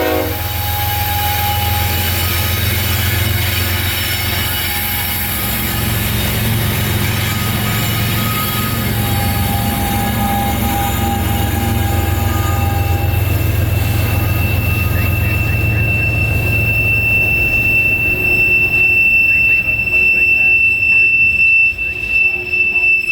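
Train K815 rounds the final curve into Winston, Florida, at night before a waiting crowd: a loud, close locomotive rumble with long horn blasts and squealing wheels on the curve, continuing throughout.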